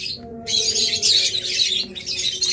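A pair of glow mask lovebirds chirps close by in a rapid, shrill stream of high twittering calls that continues almost without pause, over a faint low hum and with no talk.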